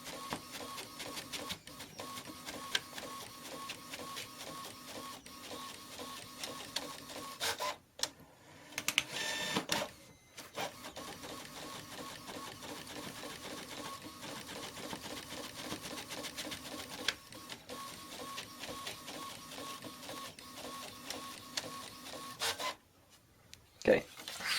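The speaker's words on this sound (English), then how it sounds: "the ink is going back and forth, and you can kind of see the whole printer is kind of moving back and forth" A Brother MFC-J410w inkjet printer prints a document with a rhythmic whirring and rasping as the print head shuttles back and forth, broken by short pauses and clunks, heard up close with a voice speaking briefly.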